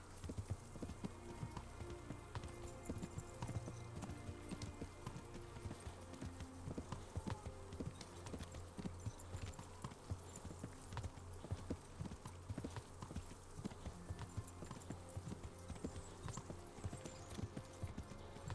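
Horse hooves clip-clop steadily in Kingdom Come: Deliverance, a continuous galloping rhythm with an occasional whinny, loud and close throughout with no talk over it.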